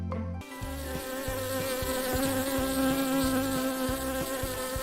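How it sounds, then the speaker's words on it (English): A bee buzzes steadily and loudly up close, a continuous insect drone running under a rhythmic musical backing throughout. "bee"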